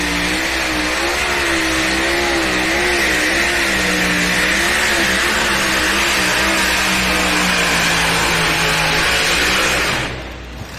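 Truck or tractor engine roaring at a pulling event, loud and sustained for about ten seconds with wavering revs, then cutting off abruptly near the end.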